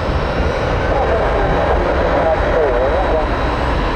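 An ATR turboprop airliner takes off at an airport, its steady engine roar and propeller drone holding loud and continuous throughout, with a rising and falling tonal whine weaving through the middle; talk is also present.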